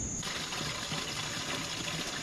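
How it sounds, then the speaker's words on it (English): Water streams steadily into a sprayer tank being filled with two gallons of water, a continuous close splashing trickle and gush that holds even throughout. "I'm going to put 2 gallons of water in it"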